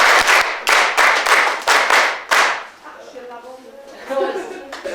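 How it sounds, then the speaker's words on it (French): A small group claps in a clinic in Batsingla, Cameroon, with a run of sharp, close hand claps for about two and a half seconds that then gives way to quieter voices talking. "Applaudissez pour elle."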